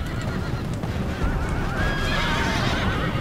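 Horses whinny and neigh amid a dense, noisy video game battle din as dwarf infantry attack them, with several shrill calls rising later over the steady roar.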